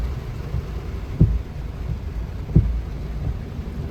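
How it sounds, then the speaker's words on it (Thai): Heavy rain falls on a morning commute day in Samut Prakan, Thailand, a dense continuous rumbling wash with low thuds of distant thunder recurring about every second and a half. "ก็รับชมบรรยากาศกันไว้ครับ วันนี้ฝนตก"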